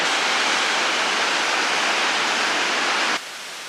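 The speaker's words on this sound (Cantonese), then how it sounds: "我而家去咗個瀑布嗰個頂嗰度喎" A dense, steady rush of water at the top of a waterfall in Iceland fills the clip, loud and close, dropping abruptly in level near the end.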